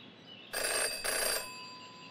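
A telephone rings twice in the video game Jenny LeClue, two bright trilling bursts separated by a short gap, clear and alone over a quiet background hum.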